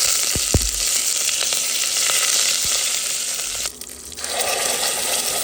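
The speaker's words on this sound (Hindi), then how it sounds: "अब हम लोग डालेंगे मस्टर्ड सीड, इसमें मैं डाल रहा हूँ हींग, थोड़ा करी पत्ता डालेंगे और इसको थोड़ा भून लेते हैं।" Mustard seeds, asafoetida and curry leaves fry in hot oil with a loud, continuous sizzle. A couple of sharp pops and clatters come early, the hiss dips briefly, then it surges back, and no one speaks.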